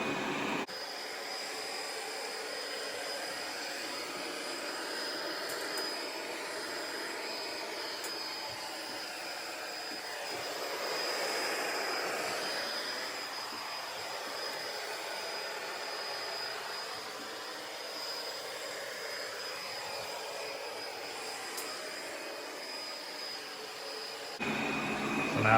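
A Proscenic M7 Pro robot vacuum runs its back-and-forth cleaning pass with a steady, even motor whir and brush noise, moderately near, with no talk, starting and stopping abruptly at the edges.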